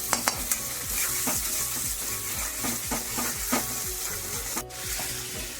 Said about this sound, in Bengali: এটাকে দিয়ে মশলাটাকে ভালো করে আমি একটু কষিয়ে নেব।